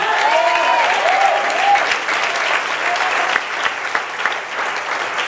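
Sustained applause from a church congregation at a Filipino born-again revival service, a dense steady roar of many hands lasting throughout, with a few faint voices calling out underneath.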